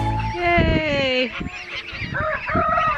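Loud, nasal honking from several geese nearby, overlapping calls in quick succession with no pauses.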